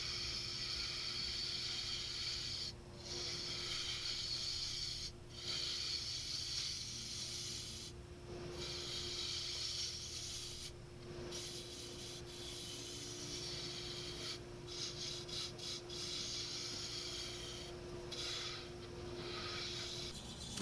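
A wooden pincushion spins on a woodturning lathe while a tool shaves and reshapes it, giving a steady hissing rasp over a constant motor hum, broken by brief pauses and repeated light passes.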